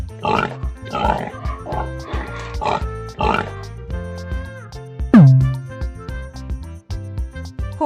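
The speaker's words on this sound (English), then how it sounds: "Pig." A pig grunts and oinks in a few short bursts over the first few seconds, fairly close and loud, with background music running underneath and continuing after the grunting stops.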